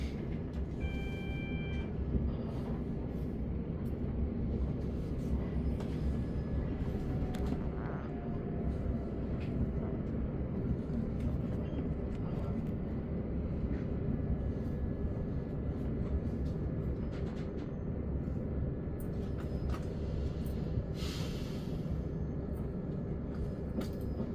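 Southern commuter train running on rails as it approaches Purley Oaks station, a steady loud rumble and rattle from inside the carriage throughout, with faint squeals and no talk.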